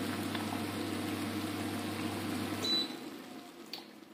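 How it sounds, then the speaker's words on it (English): Water boils steadily on an induction cooktop with a dense bubbling hiss over a low electrical hum that cuts out partway, leaving the softer simmer and a faint click. "That water is really boiling now."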